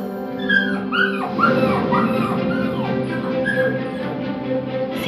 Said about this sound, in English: She found an injured puppy who was in pain